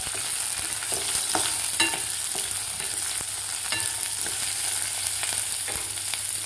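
Chopped green chillies and cumin fry in a hot pan for sabudana khichdi, giving a steady, close sizzle with scattered clicks and scrapes of stirring throughout.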